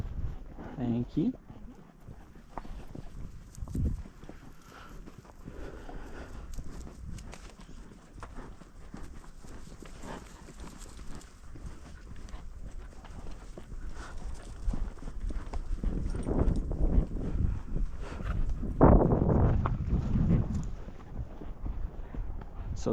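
Pack horses plod along a trail and across water, a loose clip-clop of hooves that swells and fades, with people talking over it and a bird calling faintly.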